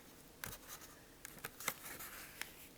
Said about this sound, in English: take each corner and fold it